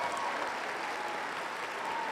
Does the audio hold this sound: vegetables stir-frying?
no